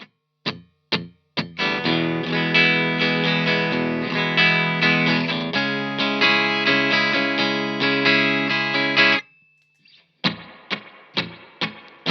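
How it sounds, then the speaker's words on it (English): A dry electric guitar played straight into the amp with no effects: picked notes and sustained chords, with a brief pause and some muted strums at the end, loud and close. "I'll show you what the guitar sounds like going straight into the amp"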